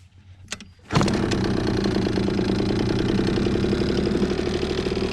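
A 50cc two-stroke ATV quad catches after a faint start attempt and then runs steadily at a loud, buzzy idle. The rattly engine note is close and continuous, with no talking.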